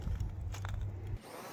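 A power drill bores out aluminum rivets on a 1949 Spartan Manor trailer, a close, loud grinding whir that runs for about a second before cutting off abruptly.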